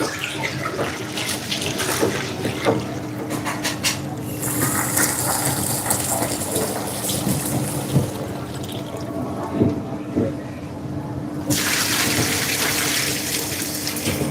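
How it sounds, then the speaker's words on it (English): Water runs from a kitchen tap while food is washed, drained and rinsed during prep, with steady splashing, rattling and clattering in the sink, the flow stopping and starting again, and no talk. "Wash, drain, wash, rinse, wash, rinse."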